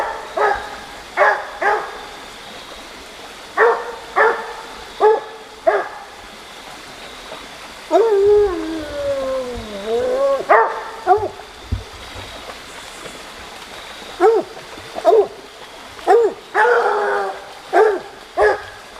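Coon hounds on a night hunt bay and bark at a distance in repeated bursts, with one drawn-out wavering howl in the middle, over a steady background of running water.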